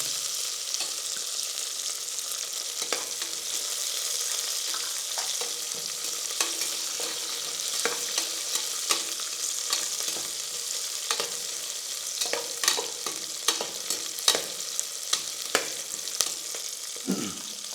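Garlic and cumin seeds fry in hot oil in a pan for a little millet sambar rice dish, a steady close sizzle broken by frequent sharp scrapes and taps of stirring, with no voices.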